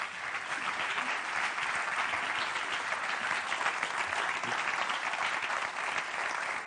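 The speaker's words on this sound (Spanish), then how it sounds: "Otro aplauso para Lois, por favor." Sustained applause from an audience at a club heritage presentation honouring a football club's history official, dense and even clapping filling the room without a break.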